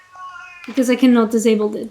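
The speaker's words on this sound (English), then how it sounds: "This is what you heard right now is my cat complaining because she wants food." A pet cat complains for food with a drawn-out, wavering meow that swells loudly, close by, following a softer brief tone and a voice talking.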